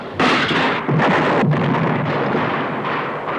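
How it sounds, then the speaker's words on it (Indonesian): Loud, dense bursts of gunfire from a 1975 Indonesian film scene, rattling almost continuously for a few seconds with a short break near the start, close and harsh. "Ayo, tembak!"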